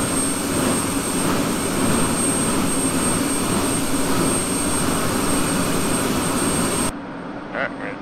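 A jet engine starting up in the DCS World flight simulator, a steady loud roar with a high whine held for about seven seconds before it cuts off abruptly.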